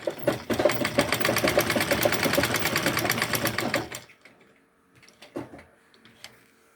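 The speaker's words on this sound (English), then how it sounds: "So now I'll stitch it down like that." A sewing machine stitches a Senegalese zarah cap in a steady rapid run of needle strokes, close and even, then stops abruptly, leaving a few faint clicks and handling sounds.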